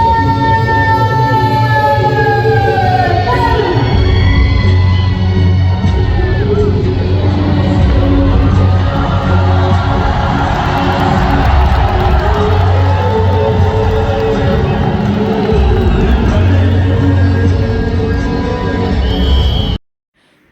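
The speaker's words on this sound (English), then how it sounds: "they are all clapping and cheering for the soldiers to come" A large crowd at the Wagah Border parade cheers and whoops in a loud, continuous roar, with whistles and shouts above the din and voices calling out over it.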